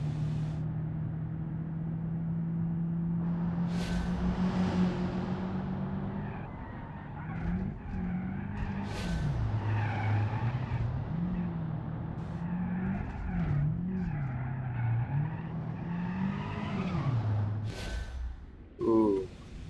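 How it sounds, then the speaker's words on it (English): Car tires skid and squeal as the back end slides out on a corner in BeamNG.drive, a steady engine drone with wavering tire squeal running through most of the stretch, a speaking voice over part of it and a sharp impact near the end. "there's this corner where the back end just likes to slide out"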